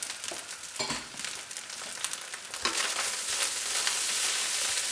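Spring onions stir-fried into a wok of fried rice, a steady close sizzle with scraping stirs and occasional louder clatters, heard alone.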